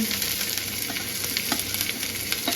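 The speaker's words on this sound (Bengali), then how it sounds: "ভালো করে ভাজা ভাজা হচ্ছে এগুলো এবার তারপর একে একে আরও সব যাবে যেমন ব্রকলি দিলাম" Broccoli and other vegetables fry in a hot pan with a steady, close sizzle, broken by soft scraping and stirring taps throughout, with no talking.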